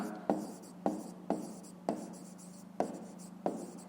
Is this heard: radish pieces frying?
no